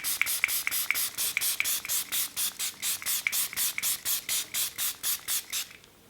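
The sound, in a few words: makeup setting spray sprayed on face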